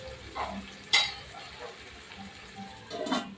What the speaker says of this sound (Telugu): ఇప్పుడు ఇలా బాగా కలిపేసుకోవాలి.